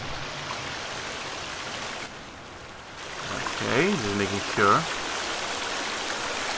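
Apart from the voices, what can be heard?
waterfall in a video game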